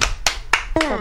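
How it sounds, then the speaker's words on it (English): A few separate hand claps ring out during a radio show, spaced roughly a quarter second apart, followed by a brief bit of speech at the end. "Let's have a nice round of applause for Miss Alpha"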